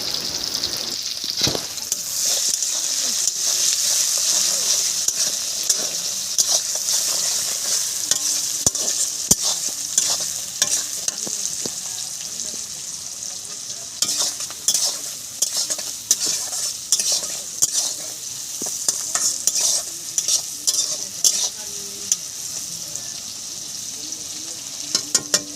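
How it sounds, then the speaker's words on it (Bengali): Sliced onions fry in hot oil as the pan is stirred continuously, a steady close sizzle broken by repeated scraping and clinking strokes for chicken and greens being cooked, with no talking. "প্রথমে আমি দিয়া দিছি তেলের মধ্যে পেঁয়াজটার 12 কইরা বাজালাম লাল লাল কইরা।"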